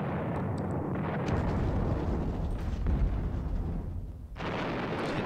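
Artillery gunfire in the Kursk wargame Panzer Battles Kursk: a loud, sustained roar of rumbling explosions and crackling shots that swells, dips briefly near the end, then resumes.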